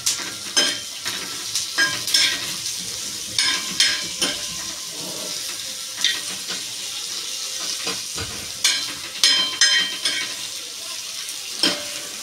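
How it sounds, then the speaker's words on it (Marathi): Onion and coconut roast in a pan with a constant sizzle, broken by frequent rhythmic scrapes and knocks of a spatula stirring against the metal. "आता हा कांदा भाजून घेईल, खोबरं भाजून घेईल"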